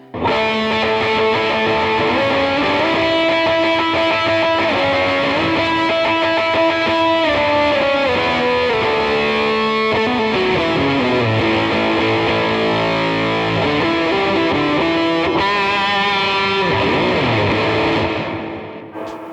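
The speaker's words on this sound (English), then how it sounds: "That is so much distortion, so much octave fuzz." Electric guitar through an octave fuzz pedal, heavily fuzzed with thick octave distortion, sustained chords and sliding notes ringing loud and continuous with no talking.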